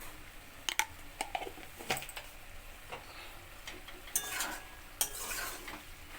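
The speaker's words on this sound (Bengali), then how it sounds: "এটা একটু ভালো করে ভালো করে একটু নাড়িয়ে নিই" A spoon stirring vegetarian macaroni with vegetables and spices in a pan: soft continuous scraping and occasional sharp metallic clinks against the pan over a faint sizzle.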